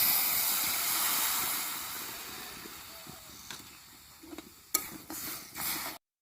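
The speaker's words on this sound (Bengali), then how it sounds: "আর এখন আমি এর মধ্যে দুধটা দিয়ে দেবো" Semolina frying in a pan as milk is poured in and stirred, giving a steady soft hiss and sizzle that fades, with a few sharp spoon scrapes and clicks against the pan near the end.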